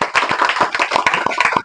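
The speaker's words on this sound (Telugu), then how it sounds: "ఒకసారి ఆ గురువులకి ఎప్పుడు క్లాప్స్ కొట్టండి" Students in a tuition class clap for their teachers, a brisk burst of many hands clapping together, close and lively, with no talking.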